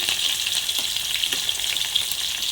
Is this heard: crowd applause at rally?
no